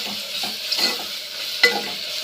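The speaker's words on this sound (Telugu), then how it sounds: "అల్లం వెల్లుల్లి వేగింది." Ginger and garlic fry in a pan with a steady hissing sizzle, broken by a few soft scraping stirs and one sharper clink of the spoon against the metal, close up and with no talking.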